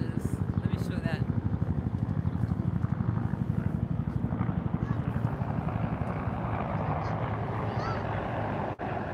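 A steady, rapid thumping of helicopter rotor blades with engine rumble, fairly close and continuous, with faint voices in the background.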